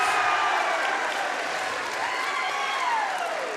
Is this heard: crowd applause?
yes